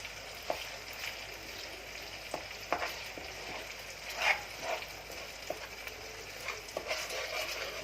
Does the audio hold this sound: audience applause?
no